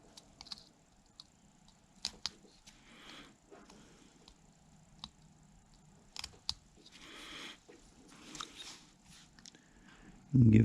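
Small knife carving wood on a tiny Santa's nose: scattered sharp snicks and short scraping cuts, close and fairly quiet, spaced irregularly over a hushed background, ending in a sudden louder rustle.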